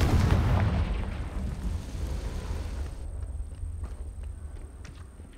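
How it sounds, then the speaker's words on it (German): A Confringo fire spell explodes in the video game Hogwarts Legacy, a loud low boom at the start that rolls into a long rumbling decay, with faint game ambience and scattered small clicks afterwards. "Confringo."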